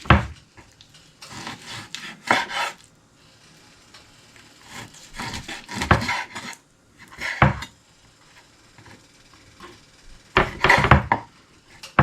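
A knife cubes wild boar meat on a wooden board, producing close, repeated bursts of chopping and scraping separated by short pauses.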